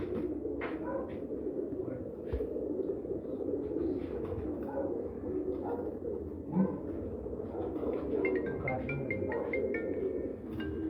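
Golden pigeons coo softly and repeatedly among other birds at a breeder's loft, nearby and fairly faint, with people talking at times over the steady background.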